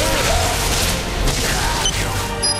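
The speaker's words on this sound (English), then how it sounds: "nail them again with another fine implement of murder, the Heavenly Flail Gun" Dense, continuous weapon fire from the Heavenly Flail Gun in the shooter Bulletstorm, a loud, booming, crashing barrage with mechanical clatter and small metallic pings, sustained throughout without a break.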